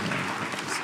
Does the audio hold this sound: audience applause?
yes